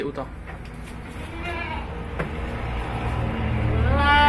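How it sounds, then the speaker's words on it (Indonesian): A first-time mother goat bleats as she strains to give birth prematurely to twins, her calls rising and wavering over steady rumbling background noise, with speech heard across the clip. "Ini kambingnya masih terus berusaha"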